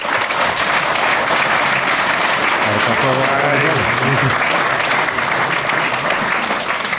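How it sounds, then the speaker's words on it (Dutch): Audience at a local election candidates' debate applauding, a full, steady burst of many clapping hands, loud and near, with a voice briefly speaking through the middle. "En ik vraag nog één keer om uw applaus."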